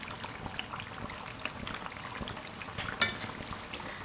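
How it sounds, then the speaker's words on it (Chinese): Potato and flour cakes frying in oil, giving a continuous soft crackling sizzle with one brief sharper clink midway. "炸至另一边微微变色，再次翻面。"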